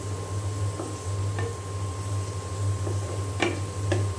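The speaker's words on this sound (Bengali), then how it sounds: "তেলে পেঁয়াজ আর রসুন কুচি দিয়ে দিয়েছি।" Chopped onion and garlic frying in oil in a pan, a steady close sizzle with a few light clinks of a utensil against the pan over a low kitchen hum.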